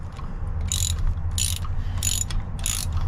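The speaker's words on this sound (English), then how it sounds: "finish taking off all these bolts" A ratchet wrench loosens MerCruiser manifold bolts in four short, close clicking bursts at a regular pace, each a quick run of ratcheting over a low background hum.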